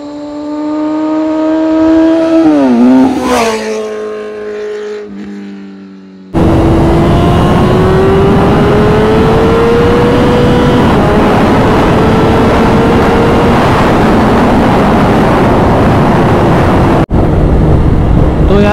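A motorbike engine revving during a summer Sunday ride, loud and close, rising and falling in pitch as the rider pulls hard, with steady roaring engine and wind noise throughout.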